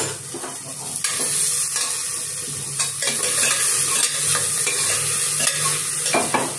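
Coarsely crushed ginger and garlic crackle in hot tempering oil for dal tadka while a spoon stirs them. Steady frying hiss sits under repeated scraping strokes against the pan.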